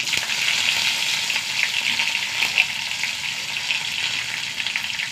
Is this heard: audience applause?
no